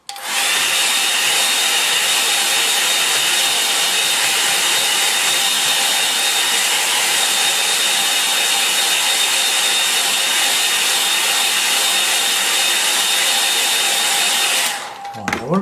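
Hair dryer blowing steadily over a watercolour painting for about fifteen seconds, loud and close with a constant whooshing hiss, then switched off at the end.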